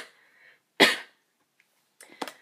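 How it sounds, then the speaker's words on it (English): A cough from someone who has been sick, one sharp burst near the start followed by a softer pair of rough bursts a moment later, close and alone with quiet between. "please pardon my coughing, I've been sick."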